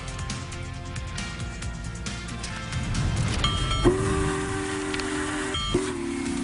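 A steam locomotive train rumbles past with clattering wheels, and a whistle sounds twice, a long blast followed by a shorter one, moderately loud.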